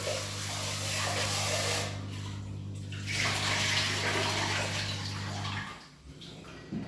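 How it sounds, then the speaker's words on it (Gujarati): Lentils being washed under a running kitchen tap, a steady rushing stream of water with splashing and swirling changes, close and fairly loud, alone without talk, the flow easing near the end. "તો આપણે દાળને પહેલાં ધોઈ લઈશું અને પછી એને બાફવા મૂકી દઈશું।"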